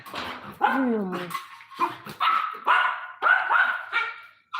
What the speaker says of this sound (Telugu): కుక్క వస్తే వాడు ఎట్లా ఊరుకుతుండు చూడు